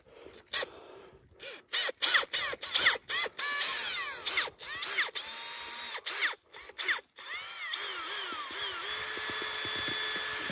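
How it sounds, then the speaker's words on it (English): A Makita mixer runs in bursts, its motor whining up and down through repeated short runs and brief stops, then holding a steadier drone near the end, close and loud. "Got the Makita mixer here."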